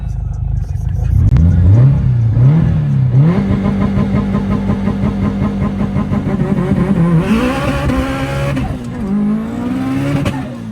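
A 908-whp Subaru STI engine pulls hard through rising revs, a loud, close, rasping roar climbing in pitch, easing, then surging again with gear changes, with people talking over it.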